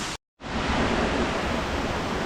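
A waterfall at Silver Falls State Park, Oregon, roars as a dense, steady rush of falling water after a brief moment of silence.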